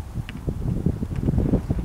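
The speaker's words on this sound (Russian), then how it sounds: "Даже вот ветер сейчас прям такой что-то сильно поднялся." Strong wind buffets the microphone outdoors, a steady low rumble with gusty surges and rustling, no voices.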